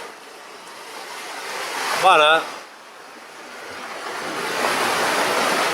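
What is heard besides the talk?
ocean waves breaking on shore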